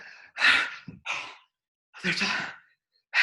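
A person imitates heavy panting after running: several loud, close, breathy gasps and sighs with short pauses between them.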